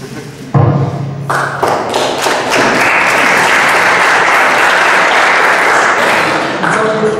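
An audience at a lecture on national borders and extremism in Europe bursts into loud, sustained applause after a few heavy thumps, the dense clapping filling the room close by to the end.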